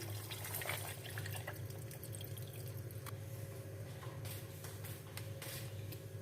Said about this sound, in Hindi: ठंडा पानी ऐड कर देते हैं।